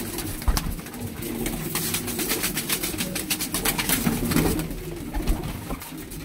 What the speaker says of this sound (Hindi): बड़ा कीमती कबूतर